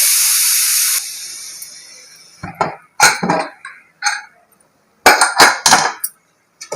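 Steam from a pressure cooker of banana-flower (vazhaipoo) biryani hisses loudly and steadily for about a second, then fades, followed by several sharp metallic clinks and knocks as the cooker is handled and opened.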